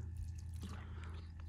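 Water is poured from a container onto hard, compacted field soil on a farm, giving a faint, trickling splash with small drips over a low rumble of outdoor background noise.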